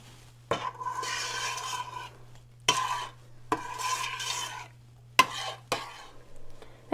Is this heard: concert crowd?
no